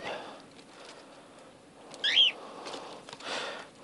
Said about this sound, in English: Those bird noises are birds.